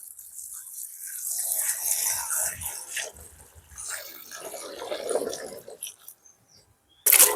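Vegetables being rinsed by hand in water for a Point Pedro style vegetable kool, with intermittent splashing and trickling close by, a quieter stretch in the middle and a sharp, loud splash at the very end.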